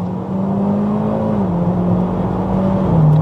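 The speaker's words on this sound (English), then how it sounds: "This just keeps going and it lurches you into the next gear." A Mitsubishi Evo X engine drones under acceleration, a steady close whir that climbs slightly, then dips as it shifts into the next gear and rises again.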